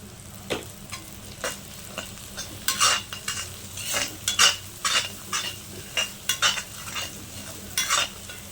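A pan of chicken being sautéed gives a low steady sizzle while a spoon scrapes and clacks against it in repeated stirring strokes, about a dozen crisp close hits over several seconds.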